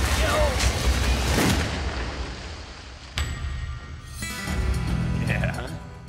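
A loud gunshot rings out while hunting alligators in a swamp, sharp and close, followed by a fading reverberant tail, with boat and outdoor noise and people talking around it.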